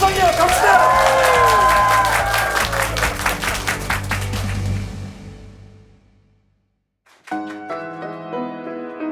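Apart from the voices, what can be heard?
studio audience applause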